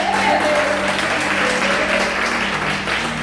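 Church congregation applauding during a service, a dense sustained wash of clapping with a held voice or tone over it, loud and unbroken.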